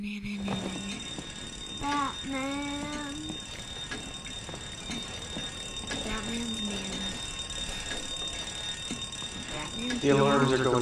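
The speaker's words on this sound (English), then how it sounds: "The alarms are going off." Alarms sound inside the Batman: Arkham Origins video game. Steady electronic ringing and repeated tonal beeps run throughout, mixed with game effects and a constant background hum, and grow louder near the end.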